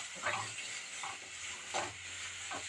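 Chopped chow chow (chayote) with amla and grated coconut is sautéed in a pan for chutney, giving a faint, soft sizzle broken by four brief scraping strokes of a spatula stirring the mixture.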